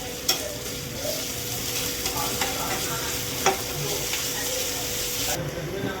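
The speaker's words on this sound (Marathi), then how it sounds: "इथे तेल गरम करायला ठेवलं. त्यामध्ये आपण अद्रक लसूण" Ginger and garlic sautéing in hot oil for veg momos, a steady close sizzle with intermittent stirring scrapes and a few sharp clicks of a utensil against the pan, no talk.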